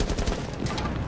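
Rapid automatic gunfire from a Rainbow Six Siege match, a dense, loud burst of shots with a few sharp peaks that carries through the whole clip with no talking.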